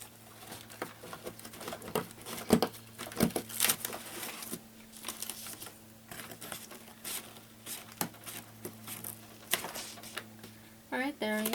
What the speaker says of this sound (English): Let me try my scissors and see.